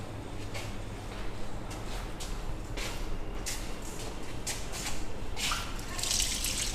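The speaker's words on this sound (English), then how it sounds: "we have to first wash it in untapped water, and then we will make it ready for our experiment." Onion root tips are rinsed in water to clear away sand, with repeated splashing and dripping sounds close by, coming in uneven bursts over running water.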